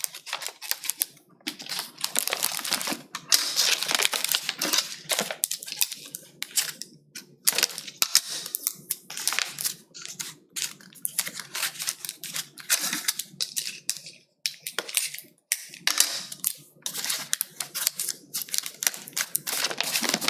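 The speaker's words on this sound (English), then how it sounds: "Now I'm just going to tape it, just like that, on all four corners." Marbled paper being taped onto the corners of a book cover: a long run of crisp tape tearing, crackling and pressing sounds, close and busy, with short pauses between bursts and no talking.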